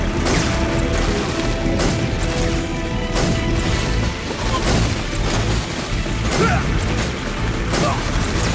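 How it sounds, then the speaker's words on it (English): Game audio from Metal Gear Solid 3 in which a motorcycle explodes during a chase, giving dense, continuous crashing and booming bursts with clattering debris that stay loud throughout. "Whoa, the motorcycle exploded."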